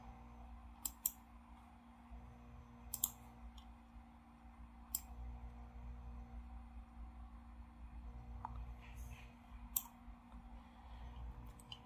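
Sharp computer mouse clicks, single and doubled, come at scattered intervals over a steady low hum in a quiet room while a design is set up for print-and-cut heat transfer paper.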